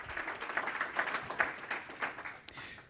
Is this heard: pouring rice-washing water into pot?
no